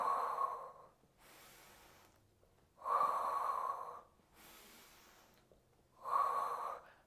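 Steady Pilates breathing during a mat core workout: three long, loud breathy exhales alternate with softer inhales in an even rhythm, close and clear, with no talking.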